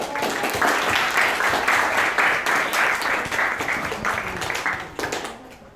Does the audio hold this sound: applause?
yes